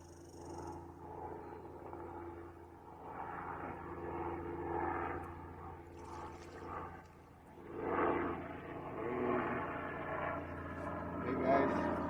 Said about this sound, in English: And helicopter flying over.